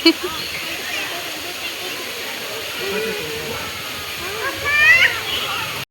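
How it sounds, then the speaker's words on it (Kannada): Rain-fed water spills down like a small waterfall near a Shiva temple, a steady close rushing hiss that runs throughout, with a brief chirpy rise near the end. "ಮಳಿ ಸಲುವಾಗಿ ಇಲ್ಲಿ ನೀರು ನೋಡ್ರಿ ಇಲ್ಲಿ ಒಂದು ಸಣ್ಣ ಫಾಲ್ಸ್ ತರಾನ ಹರಿಯಾತೈತ್ರಿ."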